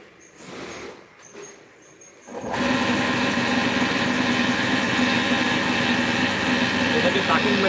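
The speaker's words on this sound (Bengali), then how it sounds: "এটাকে কাটিং মেশিন বলা হয়।" A cutting machine in a footwear factory starts up after a quiet moment and runs with a loud, steady mechanical whir and hum; a voice is heard faintly before it starts.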